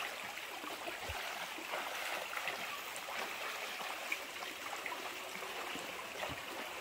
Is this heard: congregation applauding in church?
no